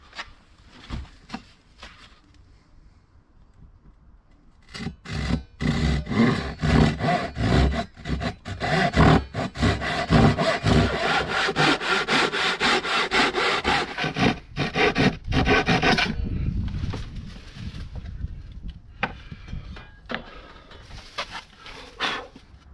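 Two-in-1 hand saw with crosscut and rip blades sawing wood on an outdoor bench; a steady run of rasping back-and-forth strokes, loud and close, with quieter handling before and after.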